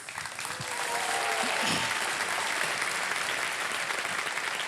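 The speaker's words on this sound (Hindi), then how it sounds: "ताली बजते रहे इनके लिए।" Studio audience applause on a televised quiz show, a dense sustained clapping that swells quickly and holds steady and loud throughout, with brief voices near the start.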